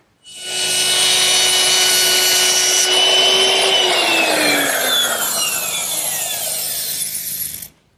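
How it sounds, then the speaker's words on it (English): A power tool cuts a rabbet into a wooden countertop for a Shaker washstand, a loud steady whining cut that rises then falls in pitch as it goes, heard alone and stopping abruptly at the end. "I want to put a rabbet in it back here because this countertop is going to expand and contract"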